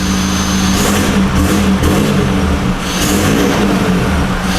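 Loud, close engine of a Toyota Hilux Revo Smart Cab 2.4 manual fitted with an aftermarket sport exhaust, blipped in two short revving surges over a rumbling idle, with no talking.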